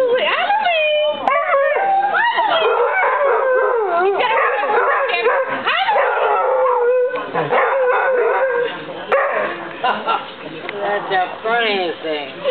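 Basset hound dogs howl and yip in long, wavering, overlapping cries that rise and fall close by, with people talking and laughing over them.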